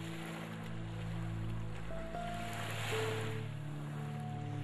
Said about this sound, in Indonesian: Peristiwa ombak menggempur pantai ini adalah suatu peristiwa alami sebagai peristiwa yang lazim saja di pantai.